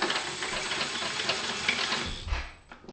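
A bolt on a custom strut tower support bar in a C8 Corvette Z06 is run down with a power ratchet or driver: a steady mechanical whirring buzz for about two seconds, ending in a short low thud before it stops.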